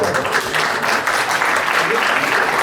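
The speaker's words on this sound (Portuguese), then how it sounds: "Pode aplaudir, hein?" Steady, loud applause from an audience at a formal public ceremony, a dense continuous wash of clapping filling the whole short stretch with no pause.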